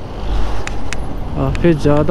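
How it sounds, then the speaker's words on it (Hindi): Heavy road traffic in Meghalaya surrounds a rider threading through it, a steady close engine rumble and car noise continuing under a man's brief speech. "ट्रैफिक के बीच से निकलते हुए"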